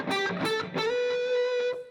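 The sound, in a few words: distorted electric guitar on Fractal FM9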